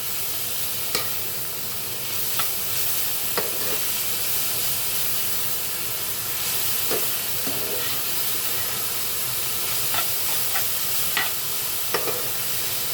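Drumstick (sajna) greens frying in oil in a pan, a steady sizzling hiss with occasional soft clicks and scrapes of stirring throughout.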